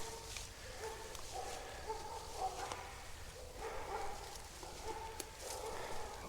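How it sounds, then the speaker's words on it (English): Dogs barking at a distance beside a rough future greenway trail along Capital Boulevard, several muffled woofs spread across a steady outdoor background of traffic-like rumble and wind. "those sound like scary dogs"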